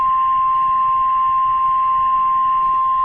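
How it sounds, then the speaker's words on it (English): An Emergency Alert System warning tone for a National Weather Service special marine warning in Green Bay, Wisconsin, sounds as a loud, continuous, unwavering electronic beep held without a break. "First EAS of my day."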